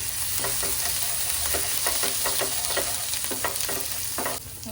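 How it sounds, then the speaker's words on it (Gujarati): Spices and green chilli paste sizzle and sauté in hot oil for vada pav filling, with steady frying hiss and repeated stirring scrapes of a spoon in the pan, close and continuous with no talking. "મરચાંની પેસ્ટ એડ કરી દેવાની છે અને બરોબર સાતળી લેવાનું છે"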